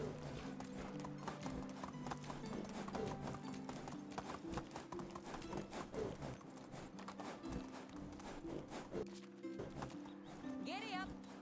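Horse hooves clip-clop in a quick, steady rhythm while riding in the medieval survival game Medieval Dynasty. The hoofbeats sit over a tonal background bed, and a short whinny rises near the end.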